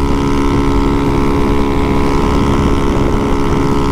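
A Honda Fan 150 motorcycle drones steadily at cruising speed, its exhaust a loud, even buzz blended with heavy wind rush across the whole stretch, with no talking.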